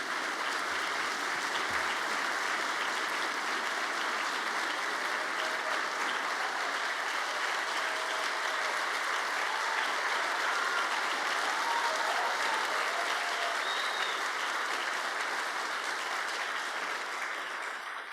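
Sustained, dense applause from a large audience at a Brazilian government event honoring the police, steady and loud throughout with no pauses.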